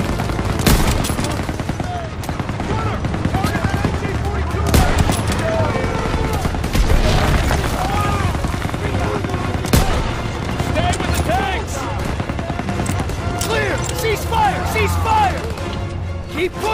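Dense gunfire fills a World War II battle in Call of Duty: WWII, with rapid machine-gun bursts and single shots overlapping continuously, while soldiers shout over the din.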